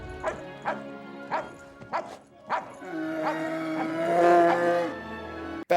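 A dog in the Anchorman film barks several times in sharp, evenly spaced bursts, then gives a longer whining, tonal cry over a steady background.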